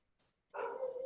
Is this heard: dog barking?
yes